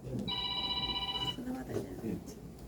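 A telephone rings once with a steady electronic tone lasting about a second, fairly loud indoors, followed by someone speaking.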